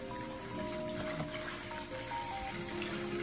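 Warm tap water runs and trickles steadily into a tub being filled for a rescued Burmese python, a continuous close splashing flow with no talking.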